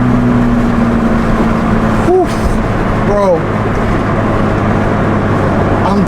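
Loud sports car exhaust from a BMW M4 or Toyota Supra, a steady droning roar heard from inside the cabin with brief rising pitch sweeps as it accelerates and shifts, with short exclamations from occupants.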